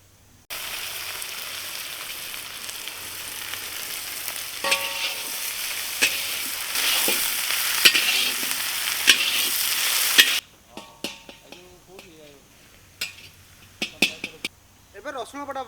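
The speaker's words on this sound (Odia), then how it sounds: "ଏବେ କଟା ପିଆଜ ପକେଇଦେବା।" Chopped onions hit hot mustard oil with cumin and sizzle loudly, then are stirred with scraping clatters as the frying settles to a softer crackle, while a voice speaks briefly near the end.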